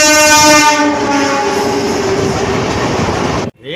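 At Chandrapur railway station a train sounds a loud, sustained horn over the rumble and clatter of rolling wheels; the horn fades into the running noise before everything cuts off abruptly near the end.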